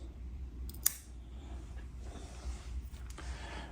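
A branch on a seed-grown pomegranate bonsai snipped with pruning shears, one sharp close click of the blades followed by faint rustling of the branches.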